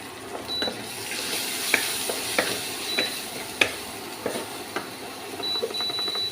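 Spice paste with many green chillies frying in a pan for an amudi fish curry, a soft steady sizzle broken by scattered sharp clinks and scrapes of a spoon stirring against the pan.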